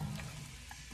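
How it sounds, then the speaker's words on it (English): Onions dropped into hot oil for split pea soup: a brief, dense, close sizzle with a soft thud at the start, continuing steadily for about a second. "All right, my oil is nice and hot. I'm gonna add the onions."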